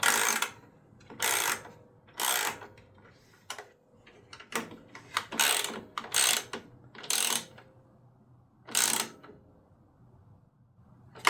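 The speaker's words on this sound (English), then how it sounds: "with a 10 mil to tighten this up." A 10 mm ratchet tightening a fastener on the carburetor of a Generac XG10000E generator, bursts of rapid clicking pawl strokes near and clear, repeated about a dozen times with short pauses between, no voices.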